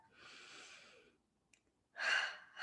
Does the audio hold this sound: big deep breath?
yes